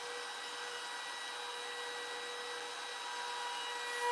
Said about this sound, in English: A jump house blower and a hose